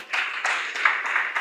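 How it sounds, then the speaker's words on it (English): A conference audience near the close of an event claps for itself with a dense, steady patter of many hands that holds for a second and a half without pause. "Clap it up for yourself."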